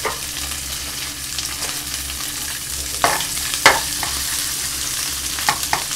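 Ham frying and being stirred in a pan for kimchi fried rice, a steady close sizzle with occasional louder scrapes and clatters of the utensil, no talking.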